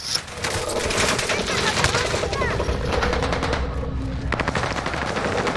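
Sustained automatic gunfire in a Call of Duty Warzone Rebirth Island match, dense rapid bursts close by with scattered shots throughout, while a player talks over the shooting.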